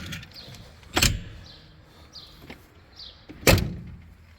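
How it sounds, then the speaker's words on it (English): A Ford F-250 pickup truck door shuts with a solid thud, followed a couple of seconds later by a second firm slam, with faint birds chirping in the background. "That door shut's beautiful."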